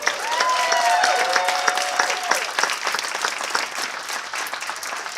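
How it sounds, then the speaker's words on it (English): Lively audience applause welcoming a congresswoman-elect at a public event in a city hall setting, loud at first and then tapering slightly, with some cheering tones rising above the clapping. "Let's give her another round of applause."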